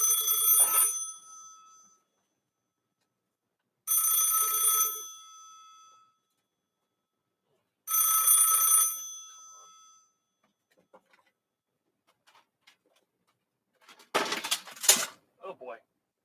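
A telephone rings three times in a quiet room, each ring a bright electronic trill lasting about a second, spaced evenly, followed by silence and then a brief burst of voice.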